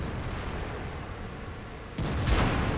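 An enemy tank round slams into the player's tank in a video game, a single sudden loud impact with a brief ringing burst after a stretch of low engine rumble.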